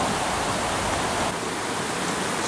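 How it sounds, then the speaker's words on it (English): A creek flows through a wet forest with a continuous broad rushing wash of water, steady and fairly loud throughout with no talking. "So we're crossing over this creek"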